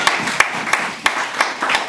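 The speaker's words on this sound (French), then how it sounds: "Acclamons pour Jésus." A church congregation claps in acclamation for Jesus during a worship service, about seven sharp, slightly irregular claps standing out clearly over a soft background.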